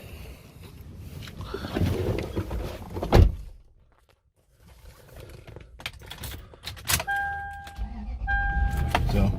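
A 2004 Toyota 4Runner Limited V8 with 215,000 miles starts after some key and door handling noises and a brief quiet pause. The engine settles into a steady idle while electronic chime tones beep intermittently.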